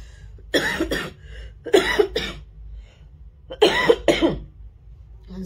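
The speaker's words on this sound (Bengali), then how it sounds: "সরি, একটু ক্ষমা করে দিও আমার এই কাশির জন্য" Three quick double coughs, close and loud, separated by short quiet gaps with a low hum underneath.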